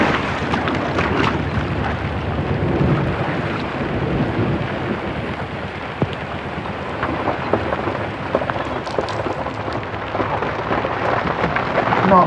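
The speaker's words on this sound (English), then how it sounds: "It's a major storm that's just come out of nowhere." Heavy rain pours steadily during a sudden thunderstorm on a canal, a dense, loud and continuous wash of noise with wind buffeting the microphone and no talk.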